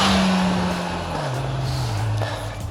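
Motorcycle passing on a mountain pass road, a loud engine whose pitch sweeps downward as it goes by close, then fades into steady wind and road noise.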